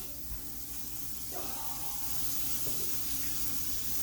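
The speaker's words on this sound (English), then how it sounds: "Hear that sauce when it drips out of that sandwich?" Sauce drips from a Cuban sandwich onto a hot buttered pan, producing a steady, hissing sizzle with faint crackles, fairly quiet and continuous throughout.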